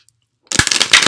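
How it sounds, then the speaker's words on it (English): Tarot cards being shuffled, a short burst of crisp riffling card noise, close and loud, starting abruptly after a brief silence. "Sometimes these cards just don't want to shuffle."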